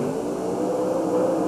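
A supercharged racing machine roars at full power at a 1991 USHRA event in Anaheim, a loud, steady, close engine drone with a whirring edge that holds through the whole short stretch.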